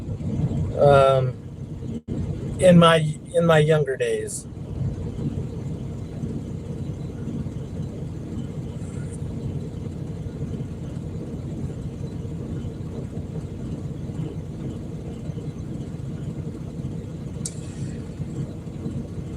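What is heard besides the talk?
semi truck engine starting and running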